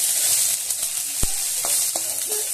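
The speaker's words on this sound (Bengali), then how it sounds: "আমি ভালো করে একটু নেড়ে নিচ্ছি" Ginger and onion sizzle steadily in a pan for a fish-and-potato curry, with a sharp utensil knock and a few scraping stirs cutting through the constant frying hiss.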